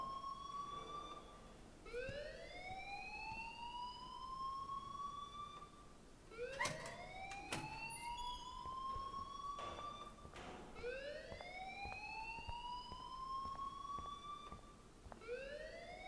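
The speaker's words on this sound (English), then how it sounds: "please turn off that alarm since that's your job" A rising and falling wail sounds in repeated sweeping cycles inside the Life is Strange video game, steady and moderately loud, with a few thumps mixed in and no talking.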